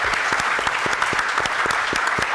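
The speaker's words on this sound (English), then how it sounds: "let's give a round of applause to all of the finalists" Audience applause for business plan finalists at a venture summit, a steady patter of many hands clapping at moderate distance, even and continuous with no talk over it.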